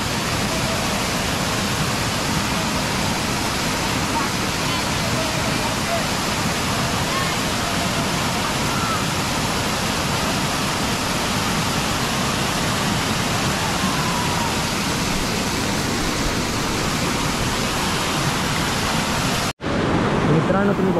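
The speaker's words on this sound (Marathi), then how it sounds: "पाऊस पण एवढा खूप धोधो पडतो आहे ना" Heavy downpour with rushing floodwater, a dense, loud, unbroken roar of rain and flowing water that drops out briefly near the end before resuming.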